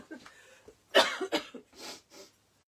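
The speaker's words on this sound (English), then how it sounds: "I need to just cough" A close, sharp cough bursts out two or three times, followed by a softer throaty exhale.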